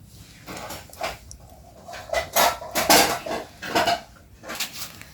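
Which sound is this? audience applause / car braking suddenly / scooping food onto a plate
scooping food onto a plate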